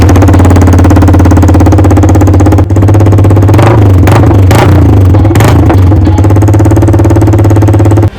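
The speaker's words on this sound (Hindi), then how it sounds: "एक बार मैं आपको बिना एग्जॉस्ट का बैंड पाइप साउंड सुनाता हूँ।" A Yamaha R15 V3 motorcycle with a bend pipe and no exhaust muffler revs hard and loud up close, a steady droning engine note broken by several sharp rising blips of throttle.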